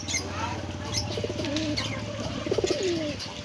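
Pigeons coo repeatedly at a mosque courtyard, several soft rolling calls close by over a steady background hum, with faint wing flutters and distant ambience.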